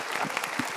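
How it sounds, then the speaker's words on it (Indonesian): A short burst of audience applause at a live motivational talk show, a dense patter of clapping hands filling the room evenly for under a second. "Kita berikan tepuk tangan."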